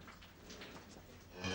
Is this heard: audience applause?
no